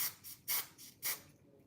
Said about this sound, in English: I'm going to go in with my Gots to Be glue spray